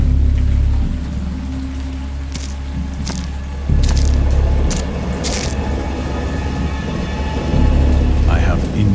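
A wild thunderstorm lashes down with steady heavy rain and deep rumbling thunder, the roar swelling in a few surges, with brief sharper crackles breaking through the dense wash of rainfall.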